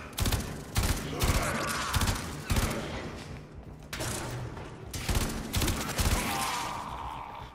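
Three-round burst gunfire from an assault rifle in the video game Warframe rings out in repeated rapid volleys, loud and close, separated by brief pauses.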